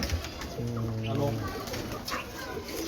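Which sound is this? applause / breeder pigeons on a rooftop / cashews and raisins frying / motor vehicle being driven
breeder pigeons on a rooftop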